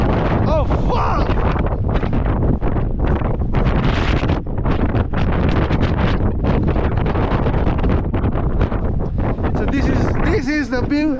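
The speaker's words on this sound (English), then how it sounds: "it's a bit windy here right now, a little bit, not too much" Strong wind gusts roar across the microphone on a building rooftop, loud and constant, while someone talks over the buffeting.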